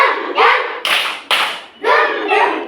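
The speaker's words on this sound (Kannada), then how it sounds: "ಡುಮ್ ಡುಮ್ ಚಪ್ಪಾಳೆ." Children clapping a rhythmic pattern together, sharp bursts of claps in short groups with brief gaps, fairly close and loud, with some voices mixed in.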